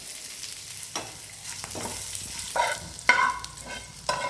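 Hot tempering for curd rice sizzles and crackles in the pan, a steady frying hiss broken by several sharper spitting bursts, close and clear with no talking.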